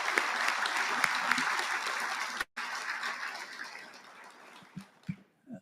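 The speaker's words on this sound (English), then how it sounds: "can we have another round of applause for the Color Guard" An audience at a Marine Corps awards dinner applauds a Color Guard and Drum and Bugle Corps. Dense, steady clapping fills the room, breaks off briefly, resumes and fades away, leaving a few scattered claps and faint murmuring.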